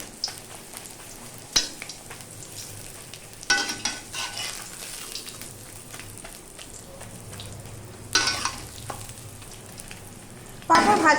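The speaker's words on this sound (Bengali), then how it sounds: "প্রথমত আমি পাঁপড় ভেজে নিচ্ছি।" Papad fries in hot oil with a low background sizzle, broken by several loud bursts of crackling hiss as each piece goes into the pan, close and without talk.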